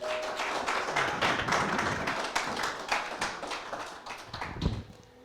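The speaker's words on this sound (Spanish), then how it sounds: "vamos a dar un fuerte aplauso al Señor por la vida de nuestra pastora" A congregation at a church service claps, with dense and fairly quiet applause that holds steady for several seconds and then thins out toward the end.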